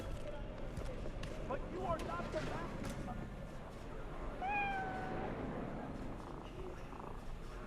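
A cat meowing in Cyberpunk 2077, two or three short rising meows close by, with soft purring and a voice talking over the game background.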